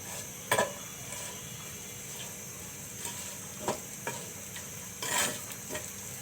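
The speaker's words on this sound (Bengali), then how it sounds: "আমি একটু লাল করে নেব পেঁয়াজগুলো আর রসুন" Chopped onions and garlic frying in a pan before greens are added, a steady soft sizzle with a few sharp scrapes and clinks of stirring spaced through it, no voices.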